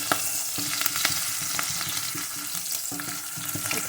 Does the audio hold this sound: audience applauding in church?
no